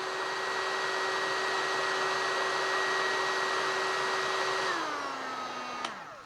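An 1800W TDAGRO variable-temperature heat gun blows steadily to melt a piece of tin solder, a continuous close airy whir with a fan whine that winds down near the end as it is switched off.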